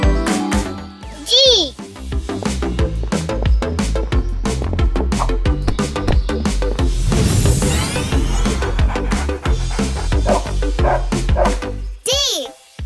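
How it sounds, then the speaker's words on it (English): A dog barks and yips repeatedly over bouncy, busy music, while someone talks at several points. "Dog."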